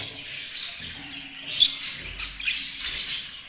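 Small birds chirp in a breeding room, with scattered high tweets and calls repeating close by at moderate volume, no talking over them.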